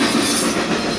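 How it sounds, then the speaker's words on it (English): A Norfolk Southern freight train passing close by, a loud steady roar of rolling wagons and wheels with faint rail squeal, heard up close with no talking. "Symbol on that train is Norfolk Southern 22K."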